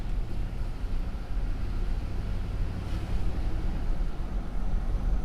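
A Chevrolet Avalanche fitted with an aftermarket Maxpeedingrods turbo cruises along, its engine giving a steady low rumble with road and wind noise throughout, fairly loud and even, with no talk.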